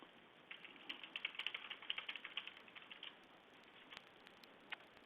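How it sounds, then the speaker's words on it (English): Rapid clattering keystrokes on a computer keyboard sound in the background of a remote public hearing call, fairly faint but continuous, in irregular bursts of clicks with no talking. "Just hearing some typing in the background"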